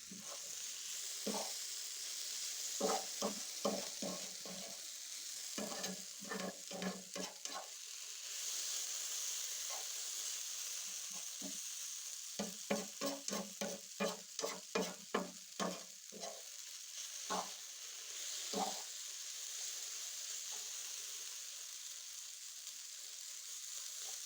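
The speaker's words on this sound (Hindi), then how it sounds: "इन्हें हम थोड़ा सा और फ्राई करेंगे" Eggs and potatoes sizzle steadily in a frying pan, with a constant frying hiss broken by bursts of rapid stirring and scraping clatter, heavy around the middle of the clip; nobody speaks.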